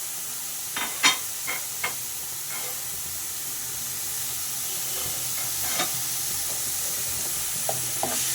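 Sautéed greens with chili flakes sizzle steadily in a frying pan, with a few close clinks and scrapes of a spoon stirring them over the constant hiss.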